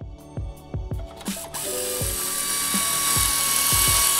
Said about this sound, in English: He drilled a hole through the bulkhead to give the earth cable somewhere to attach to.